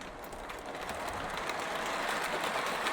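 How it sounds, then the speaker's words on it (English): A Marx 1666 toy steam locomotive train runs on its track, giving a faint, steady mechanical rattle and clicking of small wheels over rail joints for a few seconds. "So let's just run trains."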